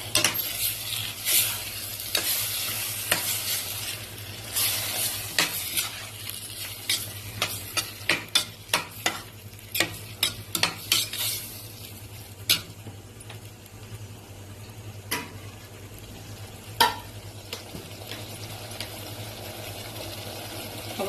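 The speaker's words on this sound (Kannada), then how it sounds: "ಹುಣಸೆಹಣ್ಣು ರಸ ಹಾಕೋಣ. ಪುಡಿ ಮಾಡಿಟ್ಕೊಂಡ್ರೆ ಬೆಲ್ಲ ಹಾಕೋಣ." Bitter gourd gojju being stirred in a pan after tamarind juice and jaggery go in: a spoon scrapes and clacks repeatedly in an irregular rhythm over a low, steady sizzle, close up and without voices.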